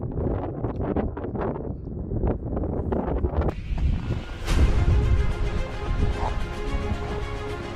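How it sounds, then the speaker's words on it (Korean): Strong wind roars steadily across an open microphone on the Sobaeksan mountain ridge near Birobong peak in snowy winter, buffeting and gusting louder midway, with no voices. "그 유명한 소백산 능선 칼바람 소리다"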